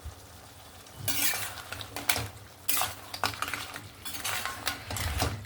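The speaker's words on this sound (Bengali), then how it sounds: "গরম মশলা ধনেপাতাটা দিয়েও আবার একবার নাড়াচাড়া করে নিলাম" A spoon stirs crab curry in a pot after garam masala and coriander are added, giving scraping and clinking metal-on-pan sounds with soft sizzling beneath, close and steady for several seconds.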